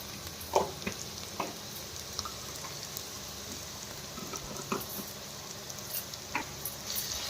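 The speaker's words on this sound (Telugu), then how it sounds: "కలుపుకుందాం ఉప్పుని మొత్తం." Dried red chillies, curry leaves and salt being stirred in a pan, a soft continuous sizzle broken by a few sharp clicks and scrapes of the spoon against the pan.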